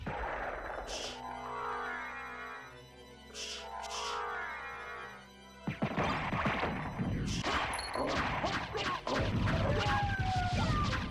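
Firework enemies in Castlevania: Symphony of the Night erupt as a rapid burst of crackling, smashing impacts with sharp metallic hits, following a stretch of game music with rhythmic chimes.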